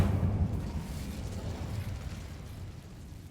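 An Incendio fire spell blast in the video game Hogwarts Legacy gives a loud, close, roaring burst of flame that rumbles on and slowly thins out over a few seconds.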